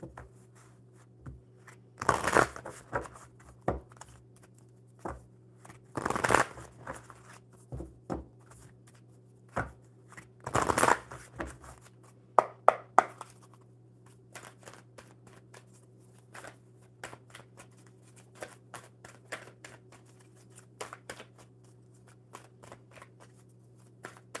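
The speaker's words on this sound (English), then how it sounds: "we'll shuffle the oracle for you" Oracle cards shuffled by hand in bursts, three loud riffling runs in the first half followed by lighter flicks and taps, close up over a steady low hum.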